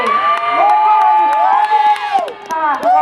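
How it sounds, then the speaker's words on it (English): Speedway crowd cheers and whoops for driver Jeremy after a race, loud and close, with shouting voices and scattered claps under excited tones. "let's get a great big round of applause for Jeremy"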